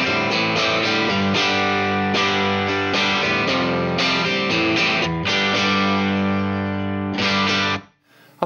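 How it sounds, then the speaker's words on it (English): A slightly crunchy Americana electric guitar tone, heard through a Celestion G12H speaker impulse response with room mics blended in, plays strummed chords and riffs loud and alone for about seven seconds before cutting off abruptly. "the tone that I got dialed up right now is a slightly crunchy sort of Americana guitar tone"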